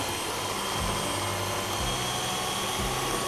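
An electric mixer whipping egg whites at low speed, a steady close whirring drone with a few rhythmic low thumps, no voices.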